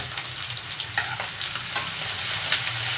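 Tomatoes tossed into a hot pan on a large stove for a vermicelli dish fry with a steady close sizzle, broken by a few sharp stirring scrapes.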